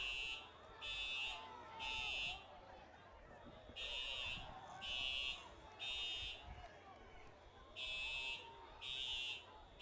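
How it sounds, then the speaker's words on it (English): A fire alarm blares in repeated pulsing bursts, several short beeps per group, across a football stadium during a college game, heard over a steady murmur of crowd chatter. "We got the fire alarm going off here."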